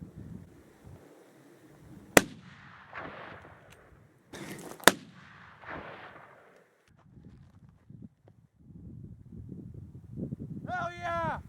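Two sharp, loud rifle cracks ring out a couple of seconds apart during a late-season mule deer hunt in Nevada, with hushed voices and rustling around them and an excited shout at the end.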